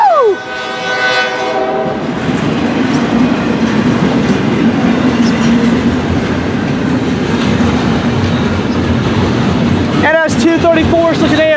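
Norfolk Southern freight train 234, led by locomotive NS 9257, rumbles loudly past close by with a steady roar of wheels and cars, horn blasts sounding at the start and again near the end.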